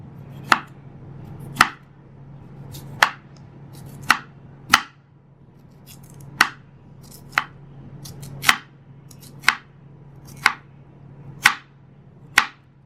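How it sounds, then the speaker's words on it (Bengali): A knife slicing a cucumber into thin rounds on a cutting board, twelve crisp distinct chops at a slow, slightly uneven rhythm, close and clear against a quiet background hum. "এবারে এটাকে পাতলা পাতলা করে গোল আকৃতি স্ল্যাশ করে নিচ্ছি"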